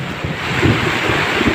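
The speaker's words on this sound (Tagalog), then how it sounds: "Lakas yung hangin." Strong wind at sea buffets the microphone in a constant loud roar, mixed with rushing water and waves around a boat caught in a storm.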